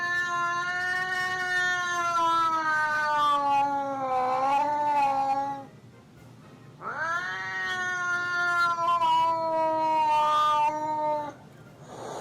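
Two cats in a drawn-out confrontation, making long rising and falling yowling caterwauls with strong harmonics, close and loud, in two sustained bouts separated by a brief lull around the middle.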